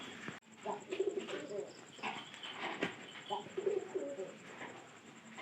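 A domestic pigeon cooing close by in a loft, a series of soft low throaty coos repeating in short phrases, with light rustling and other faint bird sounds around it.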